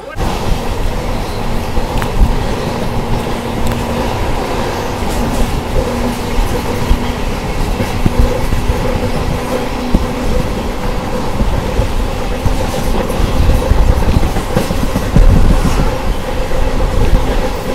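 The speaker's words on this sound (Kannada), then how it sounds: "Ashokapuram KSR Bengaluru memo train ಸದ್ಯಕ್ಕೆ ತಲುಪಿದೆ ರಾಮನಗರ ರೈಲ್ವೆ ಸ್ಟೇಷನ್ಗೆ" An Ashokapuram to KSR Bengaluru MEMU passenger train runs along the rails near Ramanagara railway station, giving a loud, continuous, close rumble with rhythmic wheel clatter and occasional squeals throughout.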